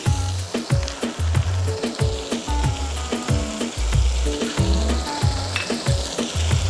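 Chicken karahi frying in a pan just after paste and yogurt go in, a steady close sizzle broken by repeated rhythmic scrapes and knocks of a spoon stirring, with no talk.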